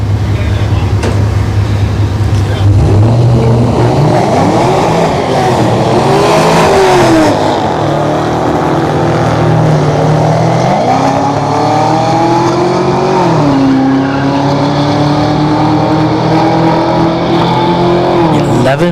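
Drag race cars at Orlando Speed World scream through a launch and run, the loud engine note climbing and shifting pitch through gear changes over about nineteen seconds, with a commentator's voice faintly underneath.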